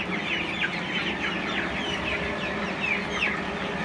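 Broiler chickens in a ventilated poultry shed cluck steadily as a flock, with overlapping calls over a constant low hum from the running exhaust fan.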